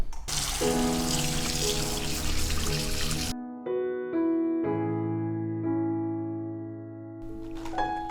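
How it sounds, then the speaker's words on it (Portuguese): Chard is rinsed whole under a running kitchen tap: a loud, rushing stream of water hitting the sink for about three seconds, then quieter trickling and splashing as the leaves are handled, with no voices. "Eu vou lavar essa selga, vou lavar ela toda inteira e volto então daqui a pouco."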